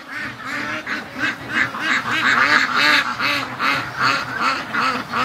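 Free-range ducks on a lake quack repeatedly and loudly, several birds calling over one another in a steady, overlapping chatter for the whole stretch.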